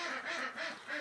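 Ducks quack loudly and repeatedly in the rain outdoors, a close, continuous chorus of overlapping calls rising and falling in bursts.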